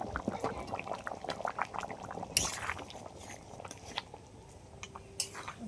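Ground spice paste goes into mutton curry cooking in a pot, giving a steady bubbling sizzle with scattered wet clicks and a brief louder splash-like burst midway.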